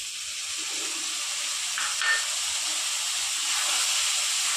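Ginger garlic paste sizzles in a frying pan, a steady close hiss that holds evenly throughout without pause.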